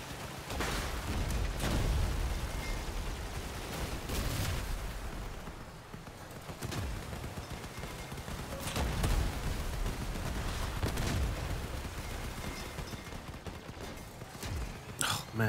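Parser shotguns fire in close-range combat in the vehicle game Crossout, with loud, booming blasts repeating in quick bursts over a dense bed of rumbling battle noise.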